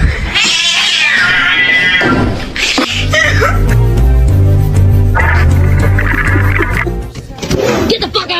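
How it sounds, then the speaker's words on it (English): A little kitten mews repeatedly in thin, high cries, close and loud, while people talk and laugh over parts of it. "Look at this little kitten."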